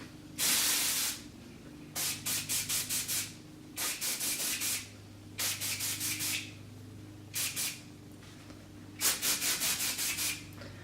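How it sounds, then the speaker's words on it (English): Repeated short hissing bursts of hair spray, close up, in quick pulsing clusters separated by brief pauses. "So I'm gonna spray some sprays in here. I'm gonna start at the base and just spray in."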